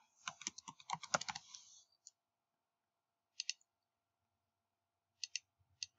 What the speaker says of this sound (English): I'm going to type in my full name.